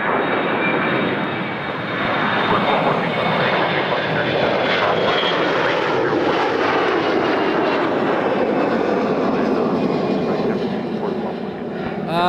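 Loud, sustained aircraft engine roar at Toronto Pearson Airport on Canada Day, a big jet such as a B747 or B777 close by, a steady broadband rush swelling and fading slightly over twelve seconds, with faint voices underneath.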